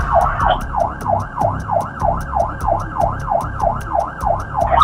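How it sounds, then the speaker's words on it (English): Police car siren wailing loud and close during a chase stop, a steady rapid up-and-down yelp cycling about twice a second with a rumbling idling engine beneath, continuous throughout. "shut that siren off on 104's car."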